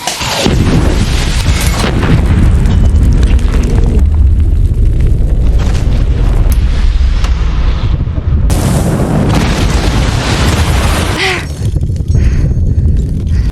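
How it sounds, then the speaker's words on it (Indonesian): A caravan explodes violently, with a loud, sustained roaring blast and rumbling debris that fills the whole stretch, a brief drop in intensity partway before the roar surges again. "karavan itu meledak dengan dahsyat"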